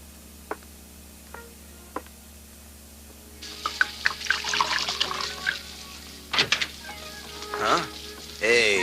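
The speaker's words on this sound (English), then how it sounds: "I found some wine in the refrigerator. Okay if I open it and pour us a drink" Wine is poured from a refrigerated bottle into a glass in an animated cartoon scene. A few faint ticks come first, then a liquid gurgle and splash with rising, glugging tones that swell and fade.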